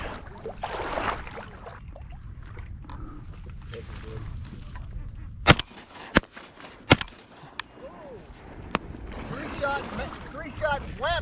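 Three sharp shotgun blasts fired in quick succession, about two-thirds of a second apart, while duck hunting on California public land, set against outdoor ambience, with people talking and calling around them.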